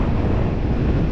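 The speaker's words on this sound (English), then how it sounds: "The wind is gusting to about 25 miles an hour right across the beach." Strong wind gusting at about 25 mph across Brean Sands beach in Somerset buffets the microphone with a loud, steady, low rumble.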